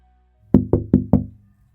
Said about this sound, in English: A single, soft knock. Not on the door, on the window.